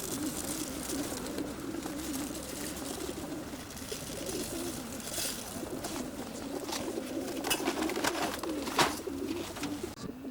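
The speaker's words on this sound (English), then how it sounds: "It's top up time for the pigeons." Racing pigeons coo softly and repeatedly amid a busy, rustling background, with occasional sharper clicks and flutters nearby.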